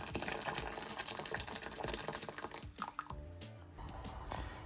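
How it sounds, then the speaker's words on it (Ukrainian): Boiling water poured over potatoes in a kitchen pot, a close, quiet stream of gushing and bubbling liquid with drips and splashes. "І заливаємо нашу картоплю теж кип'ятком."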